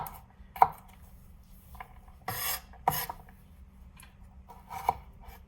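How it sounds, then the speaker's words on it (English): A knife cuts through food on a board in a few crisp, separate strokes, with soft scraping slices between them, close and quiet. "Even the sound of cutting itself, you can understand it's cutting so effortlessly."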